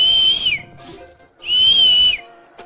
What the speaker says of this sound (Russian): Благодаря казикам я научился свистеть.